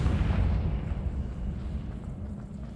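A Confringo fire spell explodes in Hogwarts Legacy, a deep rumbling boom that decays into a fading roar.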